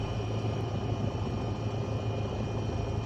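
A small airplane's engine idles at a runway holding point at Timmerman before takeoff, a steady, loud, unbroken drone with no voices over it.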